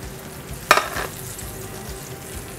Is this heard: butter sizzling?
yes